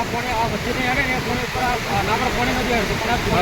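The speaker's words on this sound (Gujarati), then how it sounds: "આજ તો ઉપર થઈને પાણી હેડવા માંડ્યું" Water pours over Mukteshwar Dam in a steady, loud, broadband rush, with a voice talking over the flow throughout.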